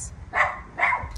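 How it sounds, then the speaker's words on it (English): A dog barks twice, two short, moderately close woofs about half a second apart over quiet indoor background. "My dog."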